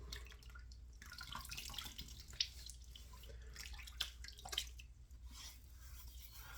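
Water drips and splashes close by as a face is wetted at a sink before a shave, with soft intermittent patters and a few sharper drops over a steady low hum.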